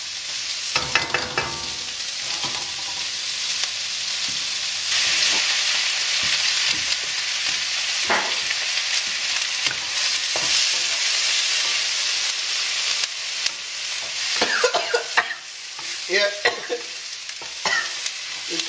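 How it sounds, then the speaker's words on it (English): Chipotle chili frying in a pan while being stirred: a loud, continuous sizzle and steamy hiss with irregular scraping and tapping from the utensil throughout, and no voices. "Oh, I love the smell of chipotle chili. That's getting a good stir there."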